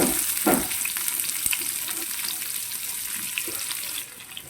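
Chopped onions tipped into hot leftover oil from frying pomfret fish, hissing and sizzling steadily at close range, with a few knocks and scrapes of a utensil against the pan and no voices.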